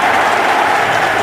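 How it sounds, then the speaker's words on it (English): A loud, dense stadium crowd roars steadily at M&T Stadium during a Miami Dolphins at Baltimore Ravens NFL game, with the fans calling out for tight end Todd Heap. "this crowd just can't wait to go into that chorus of Heap you hear in the background"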